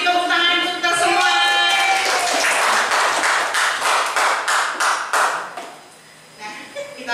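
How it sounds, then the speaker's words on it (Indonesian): Audience claps together at a school teachers' training session, a broadband patter of hand claps over voices and a musical tone, fading out toward the end. "tepuk tangan untuk kita semua"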